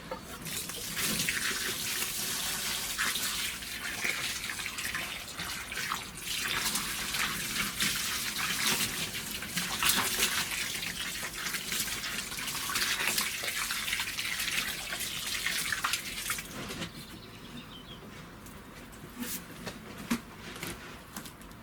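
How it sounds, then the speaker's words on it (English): Water pours steadily onto dry soil in a greenhouse, a continuous broadband gush like a running tap as plants are watered, easing slightly near the end; no talking. "give it a drink of water"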